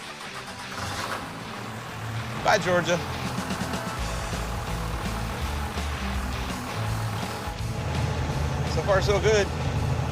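A truck rumbles along a highway with a constant engine drone and road noise, while people talk over it in the cab.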